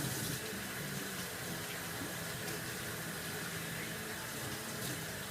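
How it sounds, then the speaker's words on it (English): Turkey wings being rinsed under a running kitchen tap, a steady loud gush of water splashing into a sink, close and unbroken. "Rinse them off really good."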